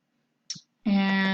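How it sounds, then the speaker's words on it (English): A single sharp computer mouse click sounds close and brief, followed by a steady electronic tone. "All right, so we can click on that."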